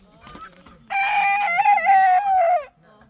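A chicken gives a short cluck, then one long, loud rooster-style crow at close range, outdoors in a rural setting, with faint background sounds before and after.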